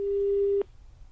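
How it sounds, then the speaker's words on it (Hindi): A telephone busy tone follows a live phone interview on a news broadcast being cut off: one loud, steady beep that stops abruptly, leaving faint line noise. "उनसे संपर्क टूट गया"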